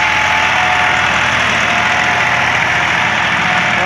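A 2006 Massey Ferguson 260 turbo tractor engine runs at a steady, loud, close idle with a constant diesel drone and a thin whine layered on top, unbroken throughout.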